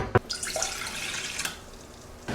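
Water from a tap running into a medium cooking pot, a brief gurgling splash after a clunk, settling into a soft steady trickle nearby.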